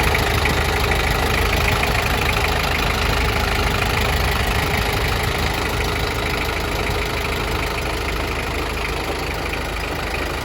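A Toyota 7FD25 forklift's engine runs at a steady idle, a continuous loud rumbling drone with a faint knocking texture and no pauses, heard alone without talk.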